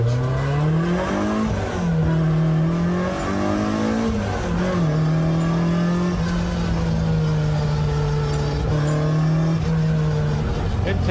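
Engine intake roar and rising, falling revs from a car driven through gear changes, one of a group including a Jaguar XJ13, 1970 Trans Am, Porsche 914-6, Cord 812 and Datsun 260Z, steady and close with people talking over it.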